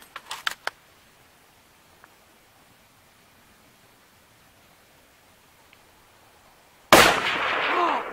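A single 8mm Mauser rifle shot fired at bricks 240 yards away cracks loud and sudden near the end, after a long quiet stretch with a few faint clicks at the start.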